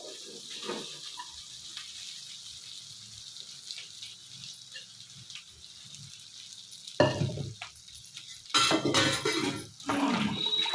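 Cooked rice being stirred and fried with mint gojju in a pan, with a low steady sizzle and soft scraping, then louder, rougher bursts of spoon-on-pan stirring near the end.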